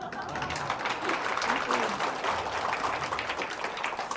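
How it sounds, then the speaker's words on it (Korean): Audience applause during a business talk, a dense, steady wash of many hands clapping at moderate volume that keeps going from start to finish without letting up. "박수 박수"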